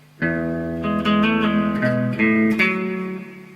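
Distorted electric guitar playing the second part of a riff, a few sustained crunchy chords changing in quick succession, close and alone.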